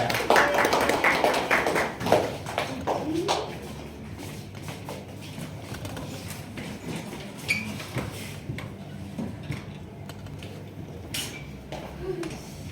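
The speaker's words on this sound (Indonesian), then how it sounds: "kasih tepuk tangan untuk kelompok 3" Applause for a student group during a classroom micro-teaching session, a dense burst of clapping for the first few seconds. It then thins into scattered claps and taps, with faint room noise underneath.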